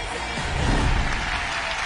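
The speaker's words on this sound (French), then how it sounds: "Encore une fois, on l'applaudit." Applause from the audience of a French hypnosis show set in a restaurant, a steady dense wash of clapping at moderate level that swells slightly in the middle, with no voices over it.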